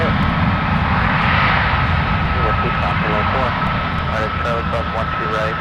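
An Airbus A330neo jet roars at an airport, its engines giving a loud, sustained, broad rumble with a steady whine that fades slightly over a few seconds, while people talk over it.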